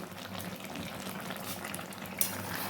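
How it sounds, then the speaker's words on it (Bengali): Spices being stirred into a mutton and potato curry in a pot give a soft, steady sizzle and bubbling with faint scraping of a spoon, ending in a brief sharper clink. "সমস্ত মশলা দিয়ে আবারও নাড়ি চাড়ি নেবো কিছুক্ষণের জন্য"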